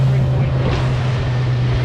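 Suzuki DF100B four-stroke outboard engine running at 4,000 RPM at about 40 km/h, a loud, steady droning hum with wind and water rush over it, continuous with no break.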